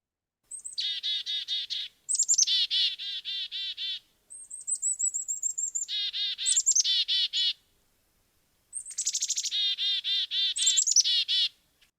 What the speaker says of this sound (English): Our black-capped chickadee. Now I want you to listen to this call here.